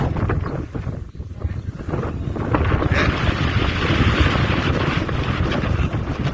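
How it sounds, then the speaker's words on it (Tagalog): Strong wind in Baguio City roars and buffets the microphone in a steady, loud rush with gusty swells, with no clear voices. "Sobrang lakas ng hangin kung naririnig nyo."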